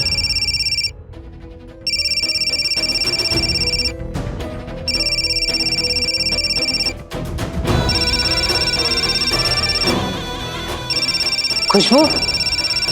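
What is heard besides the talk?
telephone ringing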